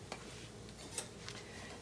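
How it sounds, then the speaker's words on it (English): A whisk scrapes and taps softly in a pan as a flour roux cooks in meatball drippings, faint irregular clinks over a low sizzle. "I'm gonna just use the whisk and cook this"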